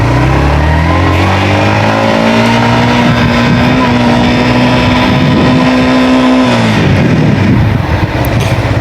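A Yamaha XSR155 motorcycle rides in first gear, its engine a loud, close, steady drone that rises in pitch, holds, then drops off as the rider eases off, with heavy wind rumble throughout.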